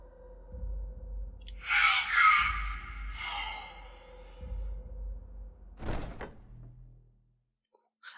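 Skyrim video game door opening with a slow, heartbeat-like rhythm: deep low thumps repeating about once a second under breathy, airy swells, then a sharp creak and thud as it settles, fading to near silence.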